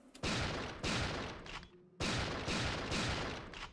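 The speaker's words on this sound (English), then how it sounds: "This is the Western Custom. This is the shotgun from Terminator 2 that Sarah Connor uses" Western Custom shotgun, the Terminator 2 gun, fired rapidly in Resident Evil 3 in an RPD bathroom: two loud, close blasts about a second and a half apart, each with a long rolling tail, and a brief quiet gap between them.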